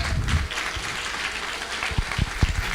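Audience applause fills a live gathering at Chinmaya Vrindavan, a dense, steady wash of clapping with a few louder low thumps near the end.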